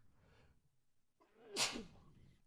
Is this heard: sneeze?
yes